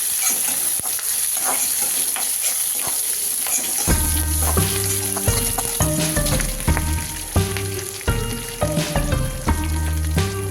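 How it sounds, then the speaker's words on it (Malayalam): Moringa leaves with a pinch of salt wilting in a hot pan give a loud, steady sizzle and crackle close by, and background music comes in partway through. "മുരിങ്ങ നമുക്ക് ഇതിലേക്കിട്ട് ഒന്ന് അൽപ്പം ഉപ്പും കൂടി ഇട്ട് നമുക്കൊന്ന് വാട്ടിയെടുക്കാം"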